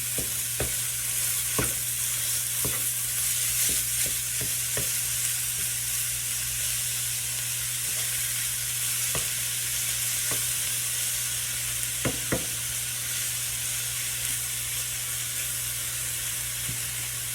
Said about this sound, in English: We're gonna take our ground beef and place it inside the frying pan